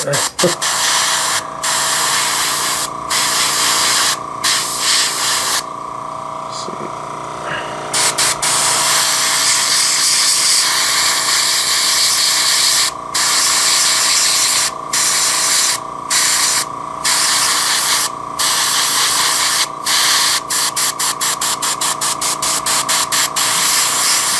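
Long continuous bursts of spray painting hiss, close and loud, broken by brief pauses and a run of rapid short sprays near the end, as an N scale model locomotive is spray-weathered.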